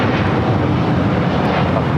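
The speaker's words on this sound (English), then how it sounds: "This is All Nippon Airways Flight 5 taking off to Tokyo Narita on a 787-9 Dreamliner." An All Nippon Airways Boeing 787-9 Dreamliner on its takeoff roll gives a continuous, loud broadband engine roar, steady and unbroken.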